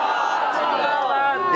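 A large religious gathering answers a chant with a loud massed shout of "Zindabad", many voices rising together in one sustained, resonant cry.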